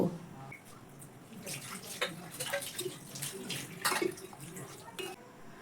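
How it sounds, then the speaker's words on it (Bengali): Flattened rice (chira) being washed by hand in a bowl of water, with soft irregular sloshing and splashing bursts close by, rising and falling over several seconds with no talk. "এবার আমি এটাকে ভালো করে 2 থেকে 3 বার জল পাল্টে পাল্টে ধুয়ে নেব"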